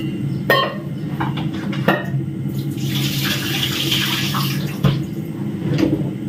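Water pours into a cooking pot while making a pumpkin soup with leaves, a running trickle and splash with a few sharp knocks of the vessel, heard fairly close with no voices.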